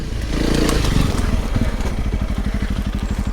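A Honda CRF300 Rally motorcycle pulls in second gear along a rural lane, its single-cylinder engine thumping in a steady rapid pulse that builds and then settles into an even throb, close and alone.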